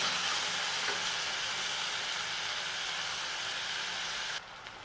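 Chopped tomato with salt cooking in a pan alongside sautéed onion, garlic, ginger and green chilli, giving a steady broadband frying sizzle throughout that drops a little quieter near the end, with no voices.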